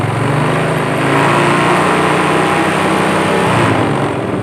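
A Yamaha Mio Sporty scooter's small engine is throttled up from idle into a loud, buzzy rev, held at a steady high pitch close by before easing back slightly near the end.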